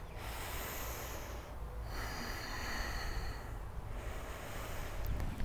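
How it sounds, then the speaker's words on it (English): Steady deep breathing held through a yoga side-angle pose, a continuous airy rush of slow inhales and exhales close to the microphone with a brief pause, no talking. "Let's just take 2 breaths here."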